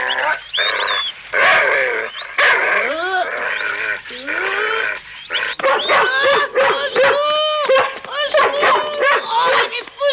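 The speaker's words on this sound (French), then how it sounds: "Oh, il est fou ce chien!" A dog barks and yips repeatedly in agitated bursts while a person talks over it, voices and barks overlapping throughout.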